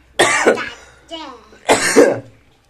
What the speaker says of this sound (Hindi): खांसी क्यों हो रही